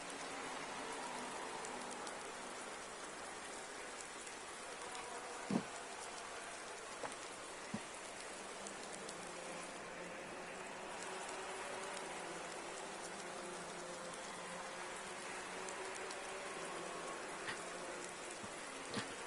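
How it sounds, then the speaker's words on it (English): Rain falls steadily at a GT3 race track, a constant hiss of drops on surfaces, with a few faint knocks and taps scattered across the downpour and no voices. "And we have rain for the race"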